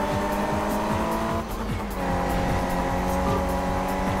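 Race cars in the GTI Racing video game roar close behind with a constant, dense engine drone, overlapping revving and gear changes, and brief tire squeals throughout.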